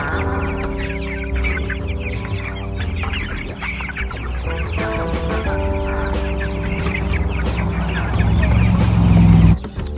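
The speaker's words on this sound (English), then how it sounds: "There's the meat birds. Those are the Cornish cross." Cornish cross meat chickens on a homestead, a close flock giving continuous overlapping clucks and murmuring calls over a steady low background hum, with no talking.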